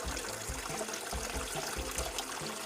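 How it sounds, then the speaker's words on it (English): Water pumped up a pipe from a garden pond spills and trickles back down into it, a steady close splashing with faint low gurgles throughout. "It's getting pumped up there and the water is overflowing back down there."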